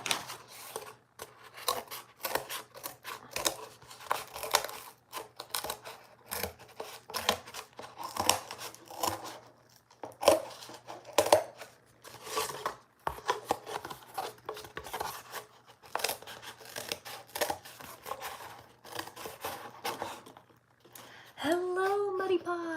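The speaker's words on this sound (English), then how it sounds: "so we're going back to the scissors" Repeated snipping of scissors cutting through art material, a steady run of crisp close clicks with brief pauses, and a voice near the end.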